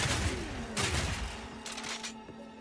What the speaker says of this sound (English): The muzzle fire of the sniper